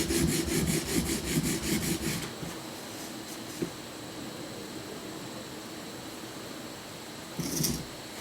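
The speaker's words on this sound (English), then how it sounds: "Strong pressure at first to cut as much metal as possible, but that really scratches the steel." Steel being hand filed to shape, with rapid rhythmic rasping strokes for about two seconds, then a quiet pause, then another short burst of filing near the end.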